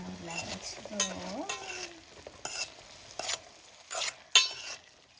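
Okra stirred in a cooking pan: intermittent scraping and clattering strokes of a utensil against the pan over a quiet sizzle, with a faint voice-like tone early on.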